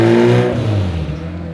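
A one-off Lotus engine screams at full throttle on a dyno pull, a loud, harsh, sustained rev whose pitch sags slightly as the run tails off, no voices.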